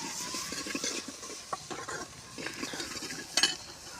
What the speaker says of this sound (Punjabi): ਦਾਲ ਨੂੰ ਲਾ ਲਿਆ ਆਪਾਂ ਤੜਕਾ